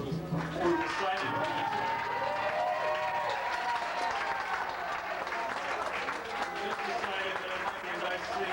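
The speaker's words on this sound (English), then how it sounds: "I'm also going to ask lately for one round of applause also for my wife" A crowd gives a steady round of applause at a fundraising gathering, dense clapping heard continuously with some voices mixed in underneath.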